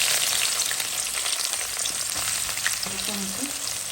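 Onions frying in hot oil for a Bengali chicken and potato curry, a loud, continuous sizzle with faint stirring scrapes, no voices.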